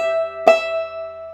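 Clawhammer banjo playing one syncopated measure of the tune Snowdrop, a single sharp, bright struck note over ringing sustained strings, close and alone with no voices.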